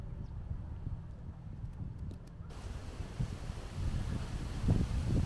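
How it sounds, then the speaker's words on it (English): Wind buffets the microphone outdoors in a Cotswolds village in the Coln Valley, a steady low rumble that swells louder toward the end, with no talking. "The wind's getting up again, sorry."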